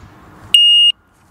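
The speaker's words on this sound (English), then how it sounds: "It beeps" An Oxford Boss alarm disc lock gives a single short, sharp electronic beep as it locks, with quiet before and silence after.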